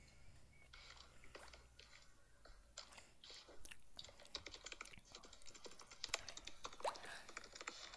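Rapid typing on a laptop keyboard, a dense run of close, crisp key clicks and clacks that continues for the whole stretch with no pauses.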